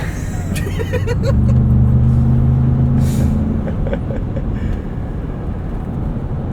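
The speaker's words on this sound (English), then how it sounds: "in sport mode, four-wheel drive auto, riding the rumbles" A 2025 Ford Expedition Max Platinum in sport mode with four-wheel drive on auto rolls over highway rumble strips, giving a loud, steady low drone and rumble heard from inside the cabin with no talking.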